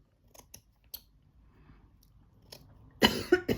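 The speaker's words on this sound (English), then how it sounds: "Sorry, bit of a cough happening today." A few sharp clicks and snips, then a close, loud cough in two bursts near the end.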